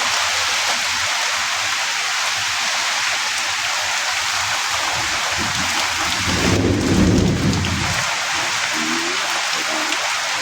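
Heavy rain pours steadily with strong wind, and a deep rumble of thunder swells up midway before fading back under the constant downpour.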